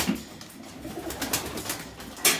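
Turkish sky pigeons in their coop coo softly amid rustling wing flutters and scratchy movement, with a sharper burst near the end.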